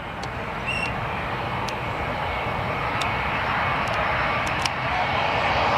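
Qantas airliner from Sydney at Gold Coast Airport in the morning, a steady moderate engine rumble that swells slightly after the first second, with faint chirping birds above it.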